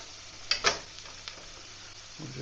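A metal spoon scrapes and clinks twice against a well-worn pan of cooking food, over a quiet sizzle and low background hum.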